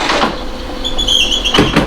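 A squeak from a Talon mechanism as it is raised, a thin high sustained tone lasting roughly a second amid mechanical handling noise and a couple of thumps near the end.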